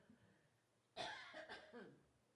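A person coughs in a quiet room, with one sharp, close cough followed by a few lighter, rougher coughs trailing off over a low background hiss.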